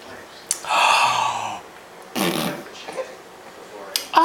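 A man imitates fart noises with his mouth for a laughing baby, giving two long buzzing blown raspberries up close, with short breathy sounds and small vocal noises between them.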